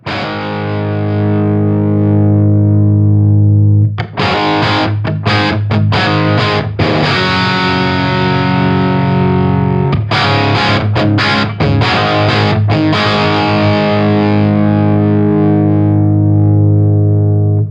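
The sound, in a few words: guitar amp plexi-style overdrive tone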